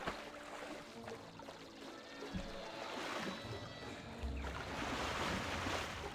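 A character splashing through water in the online game Wizard101, a continuous rushing wash of sloshing water that swells toward the end, close and steady, with no talking.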